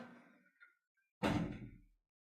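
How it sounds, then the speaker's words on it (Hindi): A door is swung shut inside a home during a comedy sitcom scene, landing as one solid thud with a short decay, preceded by faint soft rustling and movement. "दरवाजा बंद करो।"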